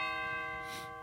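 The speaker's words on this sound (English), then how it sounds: "on the rest of the organ there are things like the chimes" Chimes stop on the St. John's pipe organ, a sustained bell-like ringing tone with many clear overtones, fading slowly, heard alone without voices.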